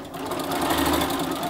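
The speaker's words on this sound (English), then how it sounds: "Okay, let's head to the sewing machine." A home sewing machine runs steadily, stitching through layered fabric while sewing a grocery bag, its motor humming with a fast, even mechanical rattle close by and alone.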